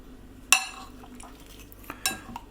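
A small spoon stirs flour through fruit in an oven-proof dish, giving two sharp clinks against the dish about a second and a half apart, with softer scraping between them. The sound is close and quiet.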